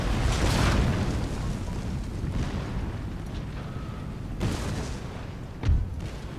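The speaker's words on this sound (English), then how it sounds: "we're gonna send cannon shot right in this bunch" Cannon fire tears into a bunch of troops in Empire: Total War, a dense rumbling battle din with two sharper booming impacts near the end, no talking.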